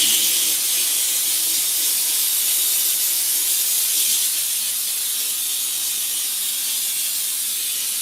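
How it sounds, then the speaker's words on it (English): Wagner steamer hissing steadily and loudly up close while old film is removed from the front window of a Ford F150, a continuous bright spray of steam with no talk. "My steamer."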